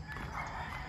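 A rooster crows faintly at a distance, one drawn-out call heard over low background rumble.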